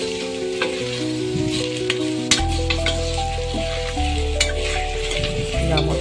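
Bottle gourd pieces and other curry ingredients being stirred in a pressure cooker, with steady sizzling and scraping under background music, close and continuous.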